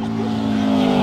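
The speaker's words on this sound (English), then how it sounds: "We just did a burnout." Car at a race track doing a burnout, engine revving hard with a steady high tonal tire squeal, loud and close, building slightly over one brief second.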